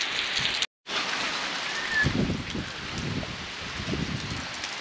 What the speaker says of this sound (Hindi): तो ये देखो तेज हवाओं के साथ बारिश, और वो भी बहुत ही भयंकर ताबड़तोड़ वाली।